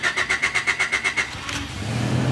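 A Honda Civic EG engine cranks with a rapid, rhythmic starter whirr for about a second, then catches and settles into a steady running rumble, close and fairly loud.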